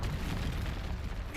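A Confringo spell blast in Hogwarts Legacy, a dense sustained low rumbling burst filling the whole moment, loud and close with no talk over it.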